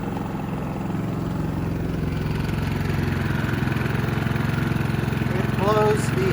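A WEN DF 400i dual-fuel 4000-watt inverter generator runs with a steady, even engine hum, close and continuous, with a faint higher tone near the end.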